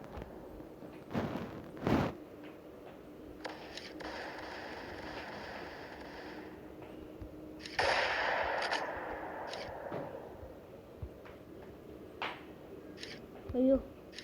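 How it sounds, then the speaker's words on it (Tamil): A sniper rifle shot in the mobile shooter game MaskGun: several sharp, loud reports ring out at scattered moments over continuous game ambience and soft rustling. "ஸ்னைப்பர் ஷாட் போட போகிறோம் ஃப்ரெண்ட்ஸ்."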